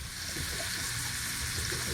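Food fries in butter aboard a shanty boat, making a close, continuous hissing sizzle with no talking.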